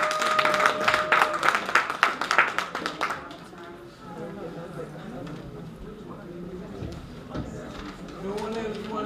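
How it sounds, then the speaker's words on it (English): Audience applause for the Drum and Bugle International Band Association during a live stream, a short burst of loud, sharp claps for about three seconds before it gives way to talking. "Give them a round of applause, please."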